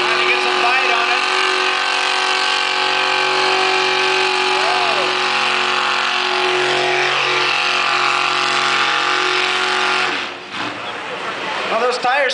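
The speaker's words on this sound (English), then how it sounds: "Well, those tires spin real nice." A Chevy pulling tractor at a tractor pull roars loudly and steadily at high revs as its tires spin for grip, the engine dropping off briefly near the end before picking back up.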